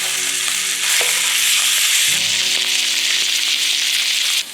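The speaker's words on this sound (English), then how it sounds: "So we're going to sear these steaks on really high heat for about a minute, maybe 2." Elk steaks sear in a very hot pan over high heat, giving a loud, steady sizzle that hisses on without a break for the whole stretch, with faint clicks of the pan and no talking.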